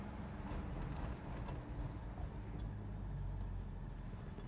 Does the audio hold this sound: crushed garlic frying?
no